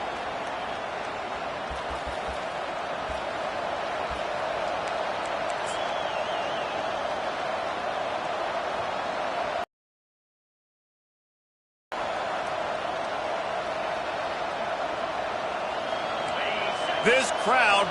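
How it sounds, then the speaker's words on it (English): A football stadium crowd roars at kickoff in a continuous, dense wall of noise, loud and sustained, broken by a short dropout in the middle, with a commentator talking over it. "This crowd bringing an ear-splitting welcome to their visitors"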